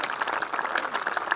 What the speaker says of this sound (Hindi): एक बार आप लोगों की सवेत तालियां इस महिला शक्ति के लिए होनी चाहिए